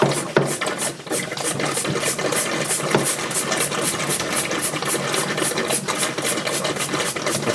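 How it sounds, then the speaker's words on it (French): A pump draws water steadily out of a workshop parts-washer fountain during cleaning, giving a loud, continuous mechanical chugging with a rapid regular pulse that runs throughout without pause. "Je vais continuer à pomper."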